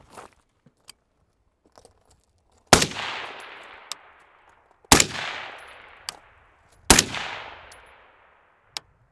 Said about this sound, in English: We're gonna give it about 10 rounds, see how many we get out of it.